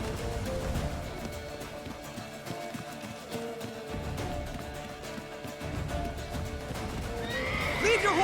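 Horse neighing in The Witcher 3 video game, with loud whinnies and clip-clopping hooves in a busy scene where voices call out.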